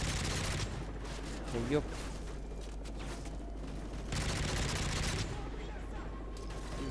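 Gunfire in Call of Duty: Modern Warfare 3 from a gun fitted with a collimator sight, loud dense bursts filling the clip with a brief exclamation in the middle.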